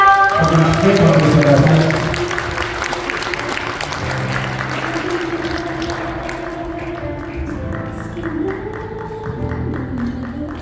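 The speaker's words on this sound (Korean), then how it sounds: "큰 박수로 환영해주세요" Audience members at an indoor event applaud to welcome a speaker to the stage. The clapping is loud for a couple of seconds, then fades under sustained music.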